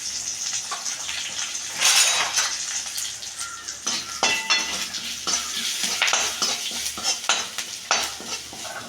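Curry leaves and asafoetida powder fry in hot oil in a pan, giving a bright crackling sizzle with sharp bursts and spatters, plus scraping stirs and light clinks of a spoon against the pan.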